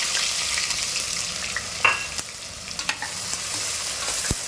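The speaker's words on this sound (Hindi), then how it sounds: "जैसे हो जाएगा मसाला उसको जलने नहीं देंगे, प्याज डाल देंगे" Onions fry with whole spices, among them bay leaf, dried red chillies and star anise, for mutton salli boti. A steady hiss of oil is heard close up, with a few sharp stirring clicks and pops, and no talk.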